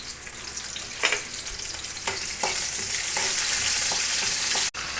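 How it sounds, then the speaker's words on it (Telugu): Curry leaves sizzle and crackle in hot oil, a steady loud frying hiss with occasional stirring clinks, close up and without speech. "ఇప్పుడు మనం సరిపడా ఆయిల్ వేయాలండి. ఆయిల్ వేసాం కదండి. తర్వాత కరివేపాకు ఉంది కదండి, కరివేపాకు వేయాలి."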